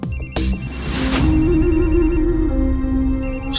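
A telephone bell rings in steady bursts, loud and close, with an electronic tone sustained underneath through most of the stretch; no one speaks over it.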